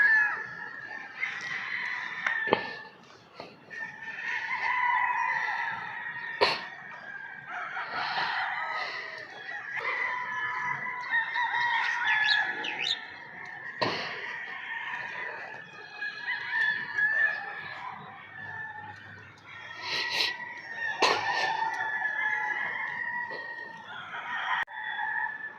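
Chickens and chicks in a range area: roosters crow repeatedly and hens cluck amid a steady mix of overlapping bird calls, moderately close, with no talk heard.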